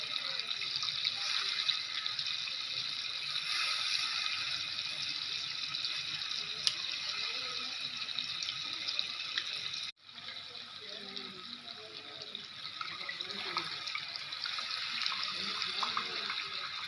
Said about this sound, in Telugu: ఆ పులుసు అయితే వేస్తున్నాను.